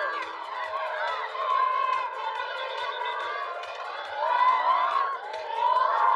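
A sell-out cricket crowd at a Sri Lanka versus Bangladesh match makes a steady, distant roar of many voices, swelling in waves with faint cheers and shouts rising and falling throughout.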